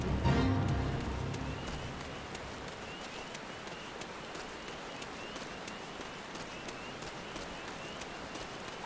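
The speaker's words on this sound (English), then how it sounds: "Too bad it's night and also raining right now." Night rain falls through the Black Shroud forest near Gridania in Final Fantasy XIV, a soft, steady patter that is quiet and even throughout with no voices.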